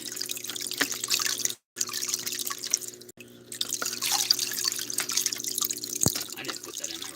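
Water pouring out of a fitting, a steady close trickling and splashing flow with a couple of brief dropouts and a single sharp knock near the end.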